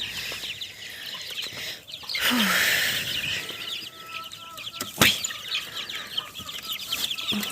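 Chickens and their brooding hens cluck and murmur nearby outdoors while feeding, with a brief flurry of flapping wings, a sharp knock midway and a short exclamation from a person.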